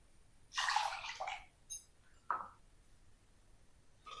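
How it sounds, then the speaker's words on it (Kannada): Moong dal lentils being washed by hand in water, heard up close as a few short bursts of sloshing and swishing separated by quiet pauses, with a faint drip between them. "1 ಕಪ್ ಹೆಸರು ಬೇಳೆ ತಗೊಂಡಿದ್ದೇನೆ. ಇದನ್ನು ಚೆನ್ನಾಗಿ ತೊಳೆದು ತಗೊಂಡು ಬರ್ತೇನೆ."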